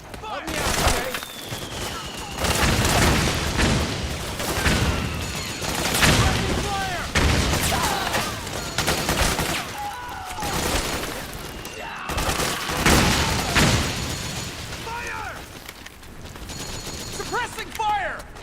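Dense suppressing gunfire in Metal Gear Solid 4: Guns of the Patriots, with repeated loud bursts and booming impacts running throughout while soldiers' voices shout over the battle.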